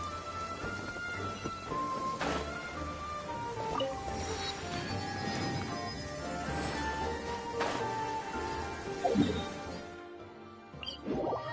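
Rain falling in Genshin Impact, a steady patter under game music and chiming effects, with a couple of sharper cracks and a brief drop-off near the end.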